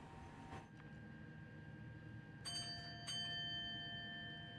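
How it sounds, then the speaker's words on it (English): A door-closed bell on a train in the game Train Sim World 5 chimes twice in quick succession, clear ringing tones over a quiet, steady cab hum. "It's like the bell tells you, hey, your doors are fully closed."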